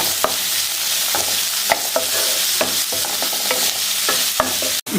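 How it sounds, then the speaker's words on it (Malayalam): Bread upma sautés in a pan with a loud, close, continuous sizzle, punctuated by regular spoon-scraping taps as the food is stirred, and a brief dropout near the end. "ഇത് വഴന്ന് വരട്ടെ"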